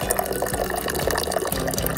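Hot water poured over a sauce packet, a steady splashing, gurgling pour running continuously for about two seconds, fairly loud and close, with no talking.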